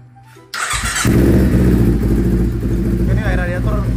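A Kawasaki Ninja 250 Fi twin cranks briefly on the starter, then fires and settles into a loud, close, buzzy idle with a steady throb; a voice speaks briefly over the engine near the end.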